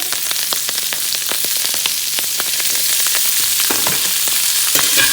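Garlic and onion frying in hot oil in a home kitchen pan, a loud, constant close crackling sizzle with rapid pops and no voices.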